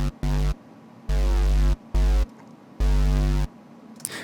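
Raw synth bass patch from a scrapyard wavetable set to band plus, filters and effects switched off, sounds in four loud buzzy bursts of uneven length separated by silence, harsh and dense, with no voice over it.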